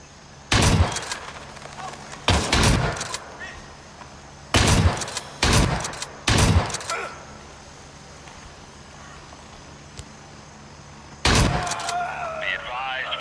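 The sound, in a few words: gunshots in a video game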